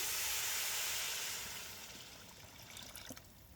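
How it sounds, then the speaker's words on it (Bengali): Hot water hits frying rice for beef khichuri with a loud steaming hiss that fades over a couple of seconds into soft bubbling and faint crackles. "চালের ভিতরে গরম পানি দিয়ে দেওয়া হলো পরিমিত পরিমাণ।"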